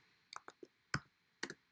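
A few quiet, separate key clicks on a computer keyboard as a chmod command is typed, spaced irregularly and heard alone with no talk.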